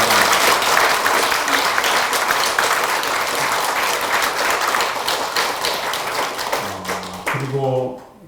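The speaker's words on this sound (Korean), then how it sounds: "힘찬 박수로 그동안 노력을 이루어주셨습니다" A congregation at a Won Buddhist temple consecration ceremony in Jindo breaks into loud, dense applause that holds steady and then tapers off, with a voice speaking as the clapping fades at the end.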